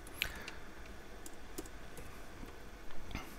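Faint, sparse clicks of keys being pressed on a computer keyboard while an IP address is typed in, with irregular spacing between keystrokes in a quiet room.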